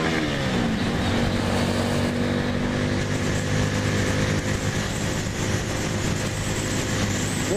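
Car on the move heard from inside, a loud steady engine and road rumble with a constant low drone throughout, no voices.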